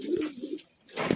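Racing pigeons returning from a training flight coo in a few short, soft, throaty bursts close by, with a brief pause between them.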